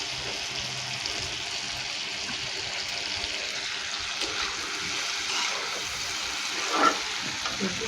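Spice-marinated water poured into a pan of frying kuche fish, giving a steady soft sizzle and hiss that runs throughout, fairly quiet with a small bubbling burst near the end.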